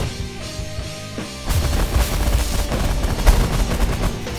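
Sniper ships firing in the space strategy game The Last Federation: after a quieter opening, a dense, continuous barrage of loud gunfire-like bursts and booms rolls on without pause, with no talking.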